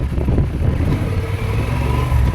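A car descends the road down from Monte Alban above the city of Oaxaca, Mexico, with a loud, steady engine drone and road rumble and no voices.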